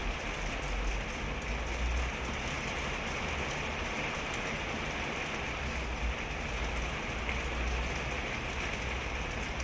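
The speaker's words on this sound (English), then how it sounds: "I'm just going to appreciate the rain for a few minutes." Rain falling outside, a dense, steady hiss of drops on surfaces with a faint low rumble beneath, constant and unbroken for the whole stretch with no voices.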